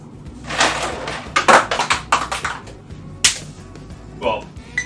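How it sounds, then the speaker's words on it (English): Five ice cubes dropped into a container, producing a series of sharp clattering clicks and knocks, some clustered close together, with a few scattered hits afterward. "I'm going to add 5 ice cubes to my..."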